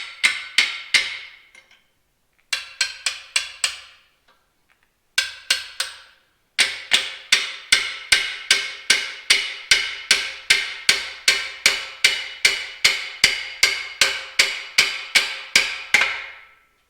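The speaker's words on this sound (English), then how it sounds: "Gonna go hammer some chisels in here," Steel chisels hammered into the split wide front axle of an International Harvester 1086 tractor to spread it apart: sharp metallic hammer blows, a few scattered bursts and then a long, steady run of evenly spaced ringing strikes, loud and close.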